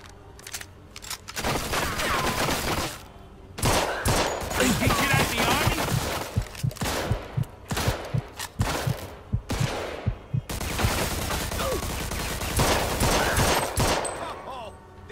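Gunfire in Mafia II: Definitive Edition, heavy automatic bursts of rapid shots with short pauses between volleys, loud and close, repeating throughout.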